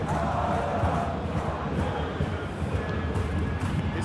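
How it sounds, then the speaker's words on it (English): Football stadium crowd at a Bayern Munich versus Hertha BSC match urging a player to shoot, a loud continuous roar of many voices with surges of excited shouting. "Crowd calling for him to shoot."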